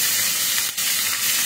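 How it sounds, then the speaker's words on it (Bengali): Sliced bitter gourd frying in hot oil in a pan, a steady loud broadband sizzle and hiss throughout, close up, with a brief dip midway and no talking. "এখন আমি করলা ভাজি করবো।"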